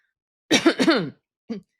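A close throat clearing, two or three rough bursts followed by a short cough, with no talking.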